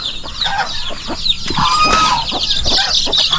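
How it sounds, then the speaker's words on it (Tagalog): Chickens cluck loudly and continuously around a brooding hen sitting up high, with overlapping calls up close and a busy farmyard chatter with no talk. "may manok tayo sa taas na nagalimlim"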